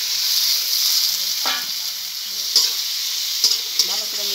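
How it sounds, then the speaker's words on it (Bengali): Fried pointed gourd and potatoes go into hot spiced oil and get stirred, a steady sizzle running throughout with a few brief scraping stirs of the spoon, close and moderately loud. "এখন ভেজে রাখা পটল আর আলু দিয়ে দেবো"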